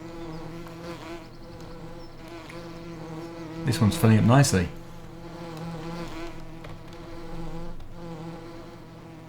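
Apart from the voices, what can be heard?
bees swarming from hive in Farming Simulator 2017 video game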